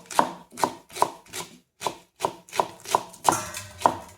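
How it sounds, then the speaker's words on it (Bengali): A knife chops rolled-up taro leaves finely on a board, about ten firm, evenly paced thuds heard up close, with one short pause partway through and no talking. "পাতাগুলোকে এরকম করে মুড়ে নিয়ে তারপরে কুচিয়ে একটু কুচি কুচি হলে ভালো হবে এরকম করে কেটে নিতে হবে"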